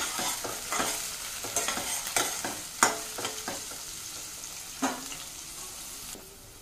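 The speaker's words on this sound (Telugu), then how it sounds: "ఒక ఆనియన్ కట్ చేసి పెట్టుకున్నాను, అది కూడా ఇక్కడ వేసేస్తాను. మిక్స్ చేద్దాం." Onion being stirred into a hot pan with cumin and kasuri methi for a gravy curry, steady sizzling frying under repeated scraping stir strokes and occasional louder clinks of the spoon, close and alone without talk.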